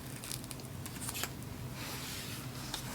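Paper stationery being cut with scissors, a series of soft, close snips and rustles in an irregular rhythm, faint and without talking.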